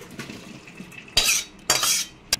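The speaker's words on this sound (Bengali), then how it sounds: "এবার এটাকে পাত্রে বাটিতে ঢেলে রাখবো।" Boiled young jackfruit poured from a pot into a bowl: soft low clatter, then two loud splashing pours each lasting about half a second, ending with a brief clink.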